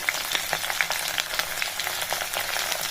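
Crushed garlic frying in hot oil for a tomato pickle, a steady dense crackle of small sizzling pops throughout, close and fairly loud with no talking.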